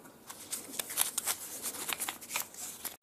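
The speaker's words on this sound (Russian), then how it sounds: "Ну вот, кошка накинулась на еду." A cat eats fish-flavoured wet food from a pouch, making soft, quick, irregular clicks and wet smacking rustles. The sound is close but faint, with no talk.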